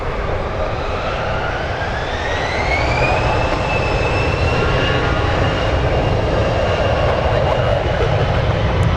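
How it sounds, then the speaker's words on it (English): A CRJ regional jet rolls for takeoff at San Francisco International Airport, a loud continuous engine roar with a rising whine that climbs in pitch as it accelerates, heard from nearby. "And the CRJ cleared for takeoff and on the roll."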